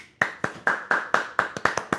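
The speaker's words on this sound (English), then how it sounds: "I'm just going to give them a round of applause right now." A single person claps steadily during a podcast episode about film directors, about nine sharp, close hand claps in an even rhythm with no voices over them.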